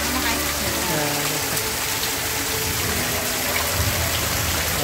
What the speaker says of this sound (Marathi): मामा आता पावसात भिजत येतो बघा